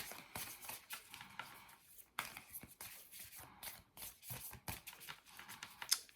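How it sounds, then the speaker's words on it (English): Heart-shaped playing cards are shuffled by hand in close, soft bursts of riffling and flicking, with brief pauses between passes. "I love heart-shaped cards, but they're a nightmare to shuffle."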